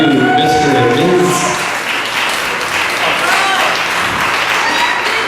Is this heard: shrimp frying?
no